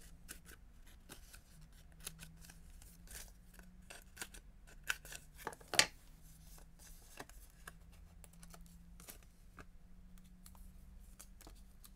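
Scissors snip through card stock for handmade card making, a few crisp close cuts among soft rustling and light tapping in a quiet room.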